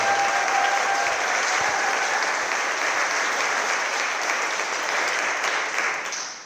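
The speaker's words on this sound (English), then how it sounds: "Can we clap it up one more time for Congresswoman Nikema Williams, everybody" An audience at an evening event applauds Congresswoman Nikema Williams, a dense wash of clapping held steady at moderate volume before tapering off near the end.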